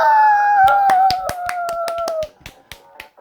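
A handful of sharp hand claps during Bee Simulator game play, spaced unevenly over a few seconds. They sound over a loud, sustained tonal sound that cuts off partway through, and the last claps are left nearly alone.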